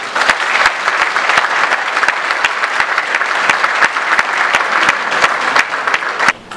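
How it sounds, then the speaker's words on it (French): Enthusiastic applause from an audience at a political speech, a dense steady clatter of many hands clapping continuously, fairly close and loud, then cutting off near the end. "Avec votre permission, vos applaudissements, Monsieur Pierre."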